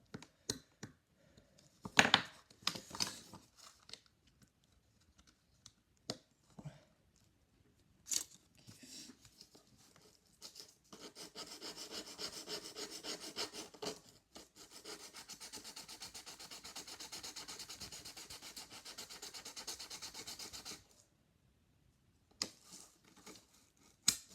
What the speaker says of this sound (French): Maintenant, vous allez venir découper ça.